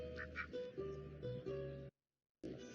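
A cluster of geese honks and quacks in quick, overlapping calls close by, then falls briefly silent before another call starts.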